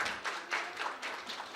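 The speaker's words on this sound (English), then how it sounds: "Can we have a big round of applause for them?" Brief, faint clapping rises from an audience at a children's internet governance forum in Bangladesh, welcoming student panelists with a few soft, uneven waves of applause.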